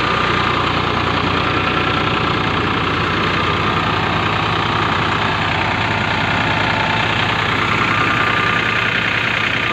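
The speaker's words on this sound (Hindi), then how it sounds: "टैट तो बस बिल्कुल शांत चल रहा है" A tractor engine idles with no load beside a grass-cutting machine, a steady loud low rumble with a slight knock running unbroken throughout, with no voices.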